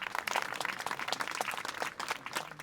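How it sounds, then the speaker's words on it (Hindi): Applause breaks out for children at the opening of a new library, a dense patter of clapping running steadily for a few seconds without any voices. "तालियां!"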